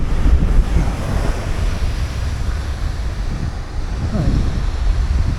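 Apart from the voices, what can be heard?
sea waves on a beach in Portugal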